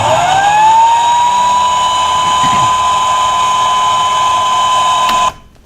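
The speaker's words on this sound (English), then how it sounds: "now we have leaf blower sound over the top of our squirrel" A leaf blower sound effect layered over a squirrel sound: a steady, loud high-pitched motor whine rises at the start and holds constant for about five seconds, then cuts off abruptly.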